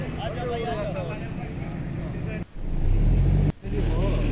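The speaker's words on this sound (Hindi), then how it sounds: "अभी तीसरी गाड़ी आ रही है नीचे वाइट कलर में, 2008 मॉडल।" A white 2008 Toyota single-cabin pickup's engine rumbles steadily nearby as it drives down a slope, with low-pitched revving that swells louder after two brief drops, while voices talk over it.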